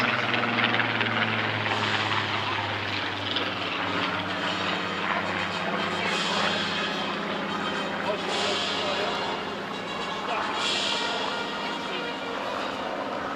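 An RAF Spitfire's piston engine drones at an outdoor airshow display over Clacton, a steady mid-distance propeller hum that swells slightly at moments as the aircraft passes, with crowd and commentary faintly in the background.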